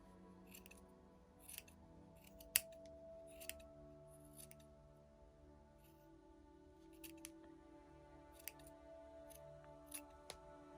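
Scissors taking small snips off a Christmas gnome decoration, sharp isolated metallic clicks spaced irregularly across a quiet background, close and clear with no talking.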